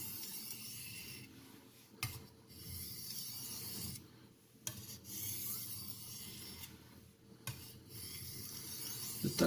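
Steel blade rubbed on a Haidu HCJ aluminium oxide sharpening stone of FEPA 1500 / JIS 6000 grit, a fine hard-feeling stone, giving steady close rasping strokes broken by short pauses between passes.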